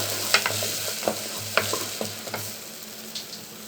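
Onion and lentils fry in foaming coconut oil, a soft background sizzle punctuated by a run of distinct spatula clinks and scrapes against the pan, fairly close and quiet overall.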